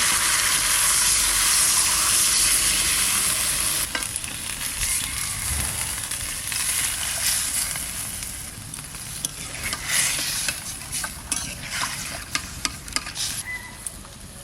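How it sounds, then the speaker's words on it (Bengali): Spiced water poured into a sizzling pan of Bengali shol fish curry, a loud continuous hiss and bubbling that gradually settles into softer crackling sputters. "মশলার জলটা দিয়ে দিচ্ছি।"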